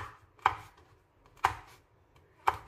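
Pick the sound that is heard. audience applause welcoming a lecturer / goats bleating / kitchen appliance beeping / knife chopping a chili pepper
knife chopping a chili pepper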